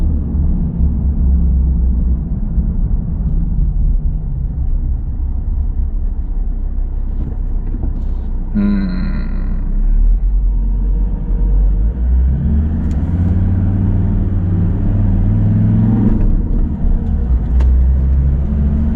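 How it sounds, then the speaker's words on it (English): A garbage truck drives past outdoors during a stormwater investigation, a loud, steady low engine rumble that swells as it nears and stays close throughout, with no talking. "Bin truck."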